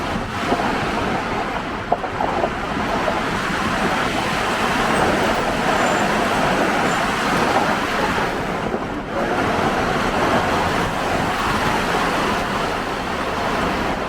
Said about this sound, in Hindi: सामने से गाड़ी आ गई है और हमारी गाड़ी रिवर्स हो रही है।